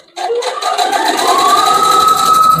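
A combined embroidery and tailoring sewing machine set to a normal stitch starts up, its motor whine rising and settling into a steady, loud, close hum.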